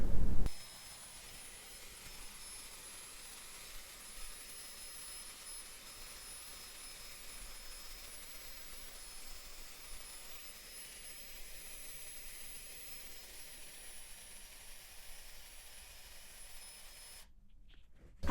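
A Dyson Airwrap hair styler in gold and nickel blows hot air while curling hair, giving a steady, even whoosh that runs almost unchanged before stopping abruptly near the end.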